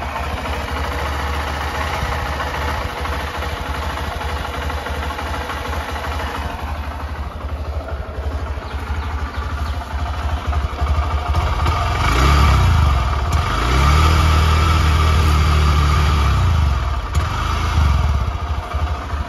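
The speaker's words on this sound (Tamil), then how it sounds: "ஸோ உங்களுக்கு என்ஜின் நோட் காட்டுறேன் வாங்க." A Honda SP125 motorcycle engine, parked and stationary, idles with a steady low putter, then the throttle is blipped and the engine revs up louder for several seconds before settling back toward idle, recorded up close with no talking.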